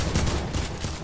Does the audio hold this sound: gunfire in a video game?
yes